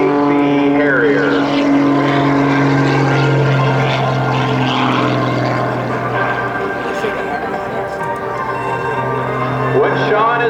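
Sean Tucker's aerobatic airplane roars through a low carrier pass at an air national guard open house airshow, its propeller drone loud and sustained with shifting pitch, while an announcer talks over it.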